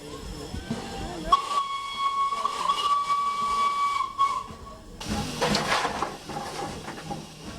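The Flying Scotsman steam locomotive sounds a sustained whistle for about three seconds, followed by loud bursts of hissing steam, with a steady mechanical rumble throughout.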